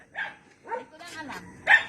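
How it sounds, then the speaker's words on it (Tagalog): Dogs barking a few times in short, sharp yaps at moderate distance, spaced irregularly, with a voice heard briefly between them. "Ang tapang na mga aso niya guys."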